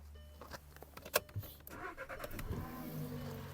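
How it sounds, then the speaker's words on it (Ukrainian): A VW Passat 1.8 TSI is started during home servicing: a few mechanical clicks, then the engine catches and settles into a low, quiet idle nearby. "Машина запустилась, вона пару хвилин має попрацювати і сама заглохне."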